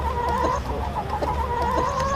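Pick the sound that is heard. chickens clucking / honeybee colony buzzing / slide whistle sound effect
chickens clucking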